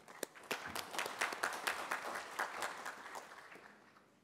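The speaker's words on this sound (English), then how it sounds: "So a round of applause for IEEE and University of Milan." Conference audience applauding during an IEEE SERVICES 2019 plenary panel, a dense burst of clapping that swells quickly, holds, then gradually thins out, moderately faint in a large hall.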